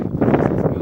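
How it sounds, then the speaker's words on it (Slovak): Wind buffeting the microphone during a mountain hike up Slavkovský štít in the High Tatras, a brief, loud low rumbling gust. "Tu nám fúka takto."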